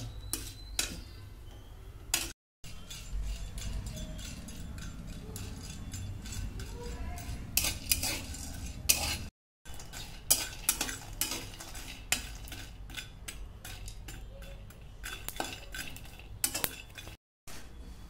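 Black cardamom and whole spices dry-roasting in a pan, with repeated scraping, stirring and metallic utensil clinks in an irregular rhythm, fairly close, broken by brief silent cuts.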